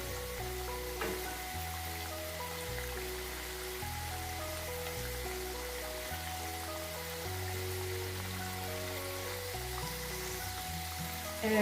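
Potato pakoras being turned as they fry in oil, giving a steady broadband sizzle and crackle throughout, with steady hum tones beneath and no talking.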